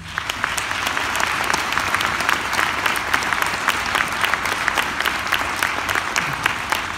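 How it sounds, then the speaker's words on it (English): An audience at a Veterans Day program gives a sustained round of applause for the veterans, dense and fairly loud, holding steady from start to finish. "So if we get a round of applause for the veterans."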